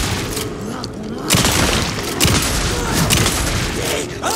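A loud gunfire volley in the video game Alan Wake 2, dense overlapping booming shots and mechanical clatter rolling on continuously, with a voice mixed in among the blasts.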